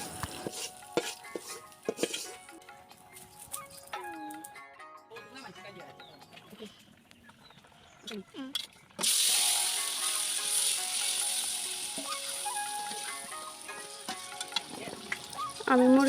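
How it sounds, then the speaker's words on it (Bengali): Onions hit hot oil for a tempering, a sudden loud, steady sizzle that bursts in partway through and holds, after quieter kitchen clatter and stirring, with a voice talking over parts of it. "আমি পেঁয়াজ দিয়ে এখানে একটু তেলের বাগার দিয়ে দিব।"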